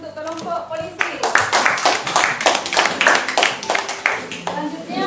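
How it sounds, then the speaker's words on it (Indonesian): A group claps for the police team in a classroom setting, a steady burst of hand claps running nearly the whole time with voices mixed in underneath. "tepuk tangan untuk kelompok polisi"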